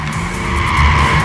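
A race car drifts in Gran Turismo 6 with its tires squealing over a loud engine drone, one continuous close skid that lasts the whole moment.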